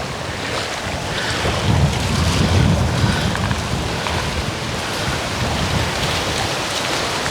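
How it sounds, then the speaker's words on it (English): Blustery wind rushes continuously at a campsite in Tomoka State Park, swelling into a louder gust early on before settling into a steady roar, with no voices. "It's awful windy"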